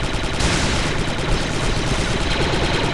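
Constant dense blaster gunfire and battle noise in the video game Star Wars Republic Commando, a loud unbroken barrage throughout.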